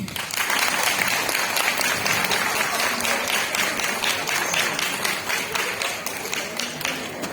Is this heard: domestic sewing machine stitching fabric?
no